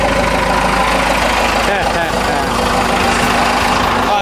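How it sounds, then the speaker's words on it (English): An idling 4BT Cummins diesel with a replacement turbo runs loud and close, a steady low engine rumble with a sustained turbo whine layered over it and no talking. "Hear the turbo more."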